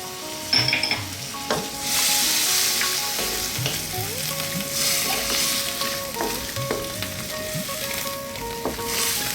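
Chopped canned whole tomatoes and tomato paste sizzle and spit in a hot pot of vegan turmeric vegetable curry stew, a loud, close, continuous frying hiss with stirring scrapes and small pops throughout.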